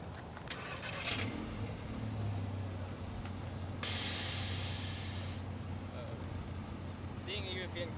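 Air suspension bags on a widebody VW Scirocco controlled by an Airlift phone app, giving a sudden loud hiss of released air in the middle, with a car idling underneath and people talking nearby.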